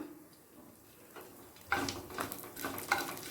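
Nigella seeds dropped into hot mustard oil set off a sudden crackling sizzle partway through, after a quiet start, with small pops and spatters close by, no voices.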